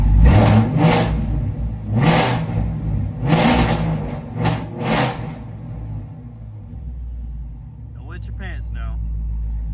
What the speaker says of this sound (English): I'm gonna give y'all a little rev real quick.